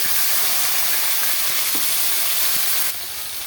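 Water poured onto browned onions in a hot pan with turmeric, producing a loud, steady hiss and sizzle that fills the whole stretch and drops slightly toward the end.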